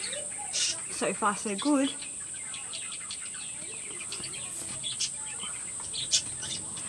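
Cockatiels, including a pied female and a cinnamon bird, give short chirps and a few squeaky calls in a cage, the calls sparse and fairly close, with a steady high whine behind them and a brief spoken comment.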